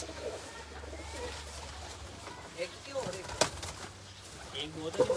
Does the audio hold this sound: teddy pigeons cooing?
yes